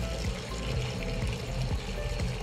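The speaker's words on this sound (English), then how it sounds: "So I'm about to put also now the cider vinegar, which is right here." Cider vinegar poured into a pot of water in a kitchen, making a continuous liquid splashing and gurgling for a few seconds, close and steady, with no one talking.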